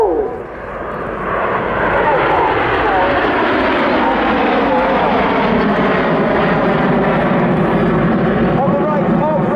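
Red Arrows aerobatic jets perform a formation roll at a seaside airshow in Southport, producing a loud, sustained jet roar that swells quickly and holds with a shifting, sweeping pitch as the aircraft pass.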